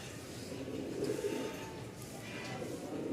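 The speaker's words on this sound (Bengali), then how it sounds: "আমি একটু ডাক দেখাই দিই কবুতরগুলো খুবই মার্শাল্লাহ" Rajshahi Giribaj pigeons coo softly and repeatedly, fairly faint against a steady background hum.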